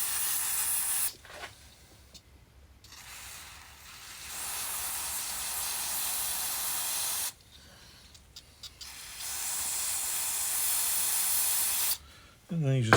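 Freeze-off penetrant hisses from an aerosol can onto a frozen bolt on a Honda Big Red ATV front rack, two long sprays of several seconds each with quiet gaps and a short final burst, close and steady.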